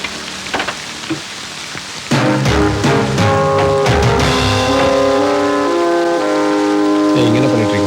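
Rain falls in a Tamil film scene, a steady broadband patter alone for the first two seconds before dramatic music swells over it and largely masks it.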